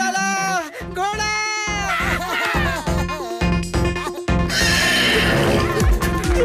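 Cartoon sound effect of a horse neighing, loud whinnies with clip-clop hoof beats and bleating-like calls mixed in, set among bursts of music and cartoon voices.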